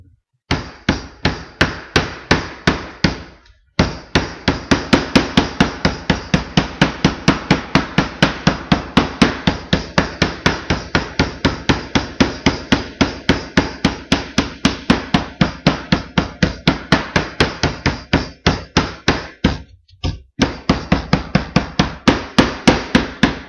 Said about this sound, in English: I just let the hammer do it.